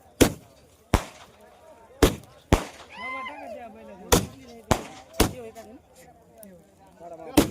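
Firecrackers burst at a rural bullock market, a string of loud sharp cracks going off every half second or so with short gaps, while a voice talks over them in the middle.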